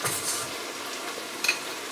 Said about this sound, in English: I'm just gonna add a bit more butter to the veggies.